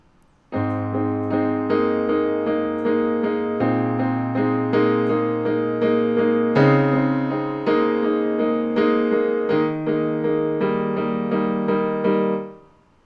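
Piano plays the intro and verses of a song, steady repeated chords over a shifting bass line, full and close, ending as the last chord fades.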